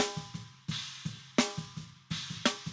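Ungated snare drum from a real drum kit, hit repeatedly in a steady groove with sharp bright cracks, heavy cymbal bleed ringing between hits and soft low kick thumps underneath.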